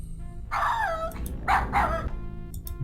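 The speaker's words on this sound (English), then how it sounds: "Asshole dog is barking." Dog barking in the video game King's Quest 7, a few separate yelping barks in short bursts over steady game background music, fairly close and prominent.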